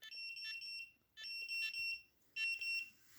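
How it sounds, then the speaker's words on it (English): A dog tracking collar's tone button sounds off in three bursts of rapid, high, shrill electronic beeps, fairly faint with brief pauses between bursts and no talking. "You hear that beep, beep, beep, beep, beep, beep? That's the tone button."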